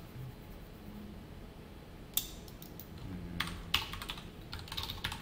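Keyboard typing while writing code: sparse, fairly close key taps and clacks, with a few sharper clicks, over a faint steady background hum and no speech.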